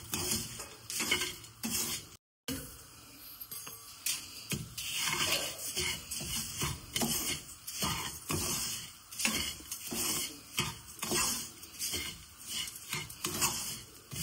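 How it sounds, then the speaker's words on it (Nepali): Peanuts and spices dry roast slowly in a pan over low heat for sutkari masala, with a continuous scraping, rattling stir and frequent clinks of a utensil against the metal pan, close and fairly busy throughout. "बदाम कम्ती आँचको हिटमा हामीले बिस्तारै भुटिरहेको छौँ।"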